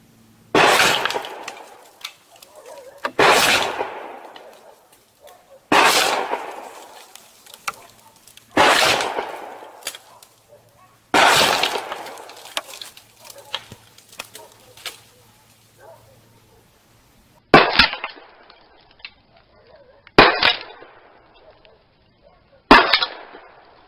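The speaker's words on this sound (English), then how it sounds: "So we're going to go ahead and shoot 5 Rio Royal bucks out here." Shotgun blasts of Rio Royal 00 buckshot fired at board targets outdoors from a distant hill, eight sharp loud reports spaced a few seconds apart, each with a ringing echoing tail, with no talk.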